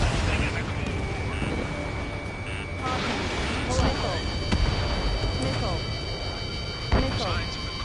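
Missile launches and explosions in the jet combat video game Ace Combat, layered rumbling blasts and booms with alarm tones over a dense roar of engine and battle noise, while a voice speaks over the action.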